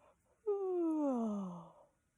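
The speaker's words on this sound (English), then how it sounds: "And then you just give a yawn." A single long, audible yawn with a voiced tone that slides slowly downward and fades after about a second, in a quiet room.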